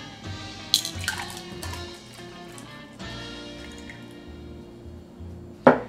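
Molasses syrup cocktail pours quietly into a pearl diver glass, bracketed by sharp glassy clinks at the start and a louder knock at the end.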